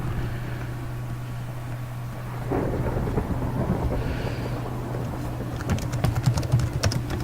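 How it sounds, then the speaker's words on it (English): Thunderstorm in a tornado survival video game: a low, steady rumble of rain and wind throughout, swelling slightly midway, with a sharper crackling burst of thunder near the end. "I created a thunderstorm too, just because I wanted to."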